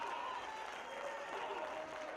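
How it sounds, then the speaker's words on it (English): Wrestling fans clap in a crowded arena, a steady wash of applause and crowd noise holding at an even level throughout. "you hear the fans, they're clapping for George"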